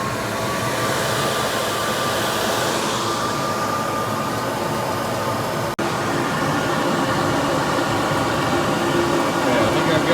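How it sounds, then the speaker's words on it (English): Blower of a 1.4 megawatt industrial boiler running steadily, a loud continuous broadband roar with a faint tonal whine, holding level throughout apart from one brief click near the middle. "So we have our blower on. We're gonna turn it up so that we get more accurate of a reading."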